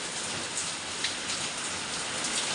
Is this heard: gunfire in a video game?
no